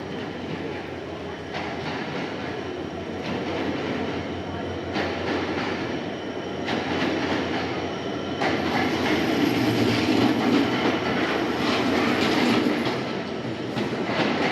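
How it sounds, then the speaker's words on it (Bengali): A local train arrives at a station in Bangladesh on a cold, rainy day, its steady rumble and rail clatter filling the whole stretch and swelling louder toward the end, with indistinct crowd noise mixed in. "অনেক প্রতীক্ষার পর ট্রেনটি চলে আসলো"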